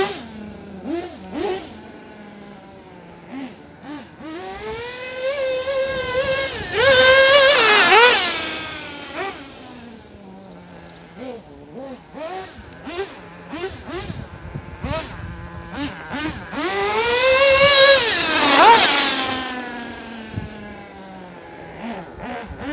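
Nitro-powered RC engines rev in repeated whining bursts, pitch sweeping sharply upward to two loud screaming peaks with buzzing idle between, close and loud, with faint voices underneath.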